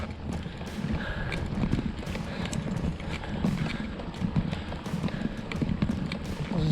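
A loose horse wandering around in Colombia, its hooves clip-clopping in an irregular walking rhythm close by, over a soft background of outdoor ambience.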